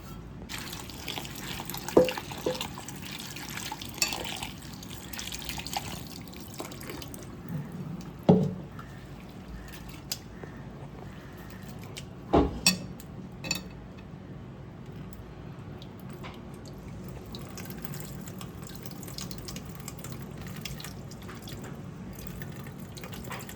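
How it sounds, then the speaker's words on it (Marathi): Water trickles and splashes steadily with occasional louder drips and sloshes as lentils are rinsed under a running tap at close range. "स्वच्छ पाण्याने"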